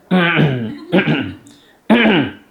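A voice imitates throat clearing in three short, forceful vocal bursts with pauses between them, close to the listener and alone, mimicking restless worshippers during a long mosque prayer.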